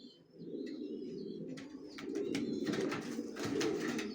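Young racer pigeons coo in soft, continuous low murmurs throughout, joined by a few faint chirps and brief wing flutters, all close by with no talking.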